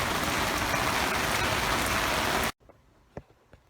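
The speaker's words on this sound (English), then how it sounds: "It is raining cats and dogs out here" Loud, dense rain pouring down steadily, then cutting off abruptly to near quiet with a few faint knocks.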